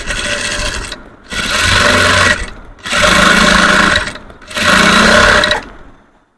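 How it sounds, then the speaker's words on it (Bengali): A sewing machine runs a double seam on a three-piece dress in four steady whirring bursts of rapid stitching, separated by short pauses, close and loud. "এখন আবার এটা তো চাপ সেলাই দিব ডাবল করে।"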